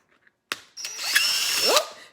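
A few soft clicks, then a power drill whirs up close and bores into foam board, its motor whining steadily for about a second before stopping abruptly.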